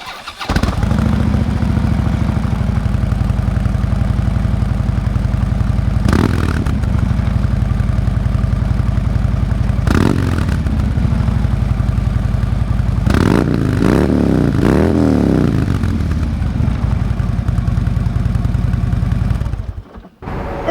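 A 2012 Harley-Davidson Road King with TAB Performance slip-on pipes fires up from cold and settles into a loud, close, lumpy idle, with several sharp throttle blips near the middle before it cuts off at the end.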